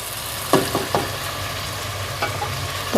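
Chicken pieces for a curry fry in a pan until they turn white. A continuous sizzle is broken by a few sharp stirring scrapes near the start and again toward the end.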